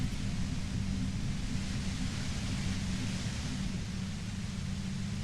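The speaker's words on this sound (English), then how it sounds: "The violent white noise becomes even more overwhelming" A compressor in Disco Elysium gives off violent white noise, a dense, steady low rumbling hiss that stays constant and unbroken throughout.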